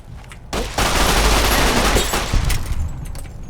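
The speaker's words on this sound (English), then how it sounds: "why not just use the SMG?" A submachine gun fires a rapid burst in Fallout: New Vegas, a dense rattling volley lasting about two seconds, loud and close, with scattered shots trailing off.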